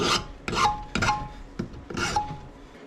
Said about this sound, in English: when you're using a file, they only work in one direction